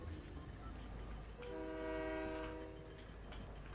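A train in the Fortnite video game sounding a sustained horn with a layered chord over constant rumbling game noise, lasting about a second and a half.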